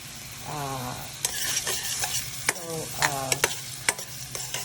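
Half a chopped onion sautéing in olive oil, a steady sizzle broken by several sharp scraping stirs and clinks of a utensil against the pan, close and clear.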